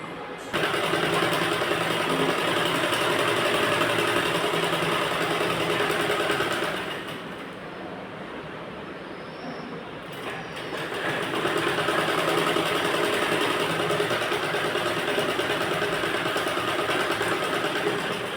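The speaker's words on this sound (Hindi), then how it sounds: "तो चलिए हम नेट का फैब्रिक को इस तरह से पकड़ते हैं और सीधी सिलाई लगाते हैं" A sewing machine runs a straight seam through net fabric, a steady, close mechanical whir that dips and eases partway through before picking back up to full speed, with no voices.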